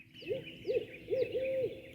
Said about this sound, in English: There are going to be owls. You'll hear the hoo, hoo, hoo, hoo.